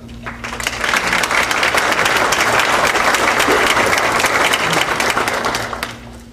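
An audience at a high school honor society induction ceremony breaks into steady, loud applause welcoming a keynote speaker, building quickly and holding for several seconds before tapering off.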